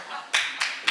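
An audience breaks into brief scattered applause at a higher-education session, with three short bursts of hand claps in under a second.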